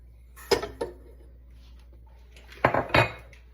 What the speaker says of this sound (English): Get your whisk, make sure it's nicely incorporated and set it aside.